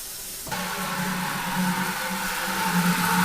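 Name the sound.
Star San sanitizing solution fizzing and bubbling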